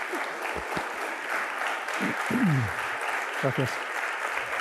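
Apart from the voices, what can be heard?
applause for a colonel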